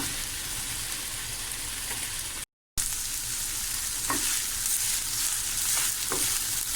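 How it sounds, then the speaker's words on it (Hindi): Garlic-ginger paste frying steadily in hot oil with liver for tawa kaleji, a dense continuous sizzle broken by one brief silent gap, with faint stirring scrapes near the end. "लहसुन अदरक का पेस्ट डालने के बाद आप इसको खूब अच्छी तरह से भुनाई कर लीजिए"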